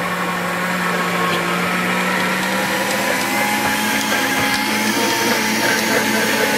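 Continuous whirring drone of a blender mixing homemade mayonnaise with garlic and salt, a loud steady motor tone with slight pitch wobble, running without pause.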